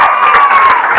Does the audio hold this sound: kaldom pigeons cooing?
no